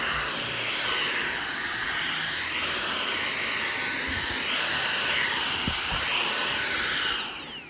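A Dyson DC59 cordless vacuum cleaner whines at a steady high pitch, loud and close, with a few soft bumps under the drone before the motor winds down at the end.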